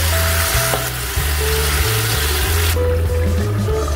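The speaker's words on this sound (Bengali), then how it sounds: "দিয়ে দিচ্ছি অল্প একটু জল," Water poured into a sizzling pan of thin curry with fried lentil dumplings (bori), a steady close frying hiss with stirring, brief splashy pour, under a droning musical background.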